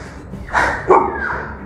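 An American Bully lets out a couple of short barks during handling, loud and close, with a muffled thump and some voice around it.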